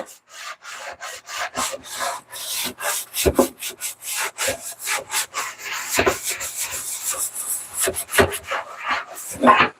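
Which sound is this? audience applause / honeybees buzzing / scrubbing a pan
scrubbing a pan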